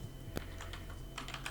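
Computer keyboard typing, a few scattered, quiet key clicks in short bursts over a low steady background hum.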